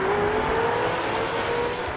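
Engines of four-wheel drive JDM race cars, including an Evo and a GT-R, roar steadily as they accelerate off the start of a track race, a continuous loud drone with a rising whine.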